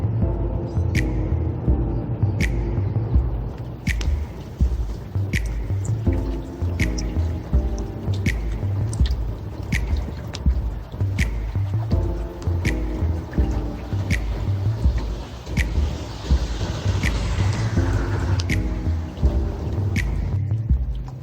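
Rain drips beside a creek during a spring fishing outing, with sharp, regular drops falling close by over a steady wet patter.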